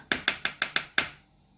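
A tablespoon scooping cashew butter cookie dough and dropping it onto a tray: six crisp, close taps at a fairly even rhythm, then quiet.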